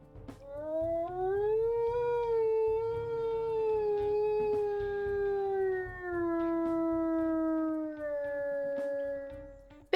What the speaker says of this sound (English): We'll listen to his howl here.